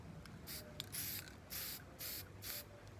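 A spray paint can releases four short, sharp hissing bursts separated by brief pauses, heard close up over a quiet low hum, with a faint click between bursts.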